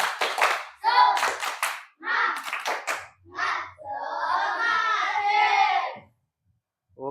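Classroom students clap their hands for a classmate, several bursts of fairly loud group clapping with short pauses between them, the longest stretch sustained near the end before stopping.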